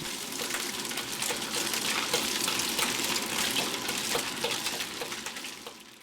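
Softened scallops fry in hot oil in a wok, a loud, continuous sizzle and hiss that holds steady throughout with no one speaking.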